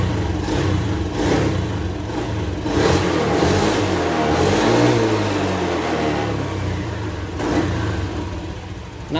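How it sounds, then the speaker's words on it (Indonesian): A Honda Beat FI motor scooter engine with a fault that makes it stall and sputter starts and revs up and down several times, loud and close, with a steady mechanical whir throughout. "Oke, kita nyalakan motornya."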